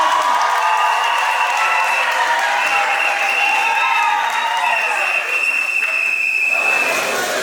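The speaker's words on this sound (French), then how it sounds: "On applaudit." Sustained applause from a crowd at a civil wedding ceremony, steady and fairly loud throughout, with some cheering mixed in and no clear speech.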